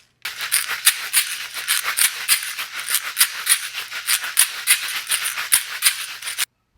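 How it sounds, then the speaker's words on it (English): Kashishi shakers rattle in a steady, rhythmic shushing pulse, close and fairly loud, with sharp seed-like clicks repeating for several seconds before stopping abruptly. "They're called kashishi, and they sound like this."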